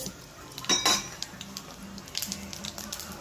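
Cumin seeds sizzling in a spoonful of hot oil, a steady close crackle and hiss with a few sharp metallic clinks of a spoon against the pan.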